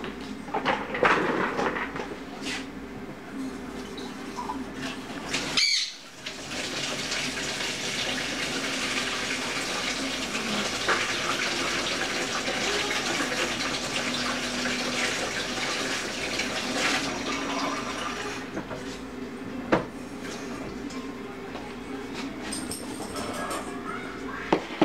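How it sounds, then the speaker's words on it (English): A kitchen tap runs steadily to fill a cup with lukewarm water for bagel dough, a broad continuous hiss and splash that stops briefly near the start, then resumes and carries on loudly to the end. "We're going to get a cup of lukewarm water."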